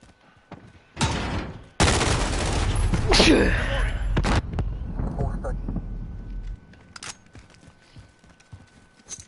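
Video game gunfire erupts in loud bursts of rapid shots, stopping and starting across several seconds, then tapers off into scattered quieter reports and footsteps.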